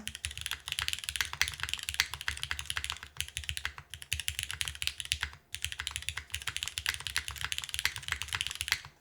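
Continuous typing on a Neo65 Core Plus keyboard fitted with MX2A switches and an aluminum plate in an O-ring mount, a dense, steady patter of soft, close keystrokes with brief pauses and no talk.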